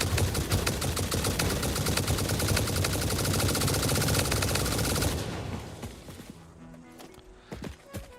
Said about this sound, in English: I just started using turbo ammo, and I kind of like it. I did not know there was an automatic gun in this game.